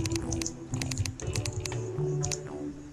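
Rapid clacking of keys on a computer keyboard, close and steady, with bursts of taps and short pauses, while a Terraria game plays softly underneath.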